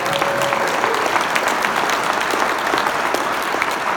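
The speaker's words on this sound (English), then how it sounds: "you can clap for that" Steady, dense applause from an audience at a motivational talk for multifamily real estate investors, a loud continuous wash of many hands clapping that holds evenly for about four seconds.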